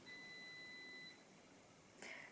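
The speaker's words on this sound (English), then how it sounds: "That's the buzzer for dinner." A dinner buzzer gives a single steady electronic tone lasting about a second, faint and indoors, followed by a brief soft knock or rustle.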